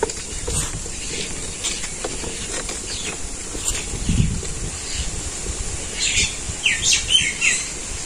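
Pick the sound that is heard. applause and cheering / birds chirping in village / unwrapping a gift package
birds chirping in village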